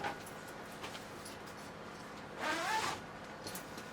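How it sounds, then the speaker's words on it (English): A grow tent's bottom zipper drawn around in one brief, close rasping pull after a quiet lull, with faint clicks before and after. "now we just want to zip that all the way around"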